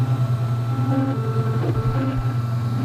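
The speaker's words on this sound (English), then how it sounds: "The printer sounds like sirens." A 3D printer hums steadily with several sustained tones gliding up and down like wailing sirens, a motor drone underneath, no voices.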